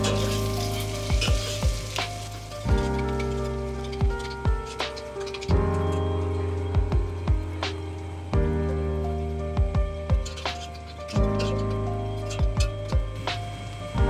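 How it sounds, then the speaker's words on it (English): Sliced shallots stir-frying over a low flame for a dhal curry give a steady, close sizzle. Sharp scrapes and clacks of stirring land every second or two, with short pauses between bursts. "sliced shallot, stir fry over low flame."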